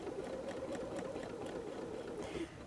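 A sewing machine stitching a seam in faux suede, a quiet, steady mechanical whir with a fast repeating needle rhythm, running continuously and close.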